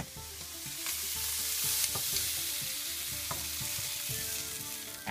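Seafood and prawns sizzle in a pan of Florentine sauce, a steady close crackle broken by occasional stirring scrapes.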